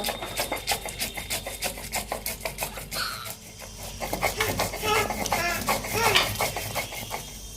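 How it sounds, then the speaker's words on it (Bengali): Soaked whole coriander seeds ground on a stone grinder (shil-nora), a rapid series of rasping scrapes and knocks of stone on stone in a steady back-and-forth rhythm, close and moderately loud. "গোটা ধনে গরম জল দিয়ে ভিজিয়ে রেখেছিলাম এবার শিলনোড়ায় ভালো করে বেটে নেব"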